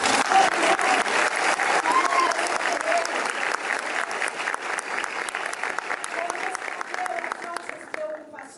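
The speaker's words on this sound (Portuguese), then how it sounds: "Uma salva de palmas." An audience at a public hearing applauding educators, loud sustained clapping filling several seconds before tapering off, with voices murmuring beneath.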